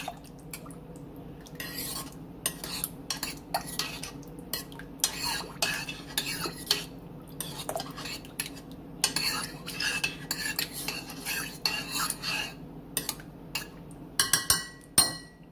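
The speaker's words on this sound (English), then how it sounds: "And mix that all up in there together." A utensil stirs and scrapes Chicken Mexicana casserole ingredients, including undrained tomatoes, in a dish, with repeated irregular clinks and scrapes, close and fairly loud, and sharper knocks near the end.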